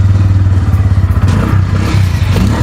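A Bajaj Pulsar 160cc motorcycle engine starts up and settles into a steady, close, low mechanical thrum with some rattly clatter, with no voices.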